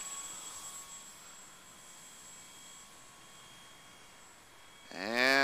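An electric motor on a Radian RC glider spools up at half throttle near the end, a rising whine over a quiet background hum.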